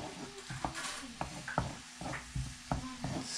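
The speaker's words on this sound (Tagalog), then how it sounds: "Kaya nilagay na natin yung garlic para sabay na natin siya sa butter para hindi siya masunog agad." Garlic frying in melted butter in a pan for garlic butter shrimp, with a steady soft sizzle and repeated spoon-stirring clinks close by.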